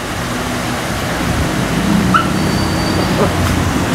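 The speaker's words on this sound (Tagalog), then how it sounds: "Napakalambing na aso." A newly adopted pet dog whimpers and lets out soft yips indoors, close to the microphone, over a steady hum of air conditioning.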